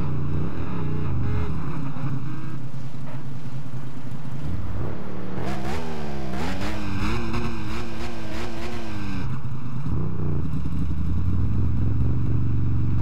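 Ducati 999R superbike engine in the racing game Test Drive Unlimited, loud and continuous, rising and falling in pitch through revs and gear changes while riding along an avenue.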